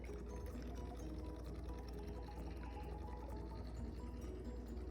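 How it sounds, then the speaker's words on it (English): Coconut milk from a can pours into a pot, a soft steady liquid stream with a low muffled gurgle that holds evenly and quietly for several seconds, with no talking. "Next I'm going to go in with my coconut milk."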